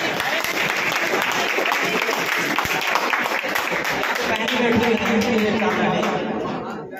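Audience at a school Maths Day celebration breaks into loud, sustained applause that fills the whole stretch, with crowd chatter mixed in.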